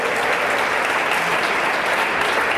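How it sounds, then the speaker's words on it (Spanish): Applause from a church congregation honoring its pastors at a congress in Guasave, a dense, steady clapping that fills the space evenly from start to finish with no voices on top. "todos los líderes celulares le dan un aplauso a los pastores que están aquí"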